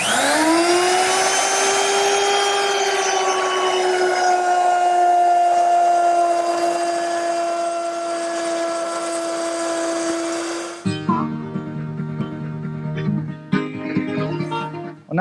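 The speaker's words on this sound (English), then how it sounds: "Now plow all the grooves 3/8 inch deep." Power tool, likely a router, cutting 3/8-inch-deep grooves in wood for a kitchen dresser: a loud, steady high whine for about ten seconds that then winds down, followed by clattering and knocking of wood.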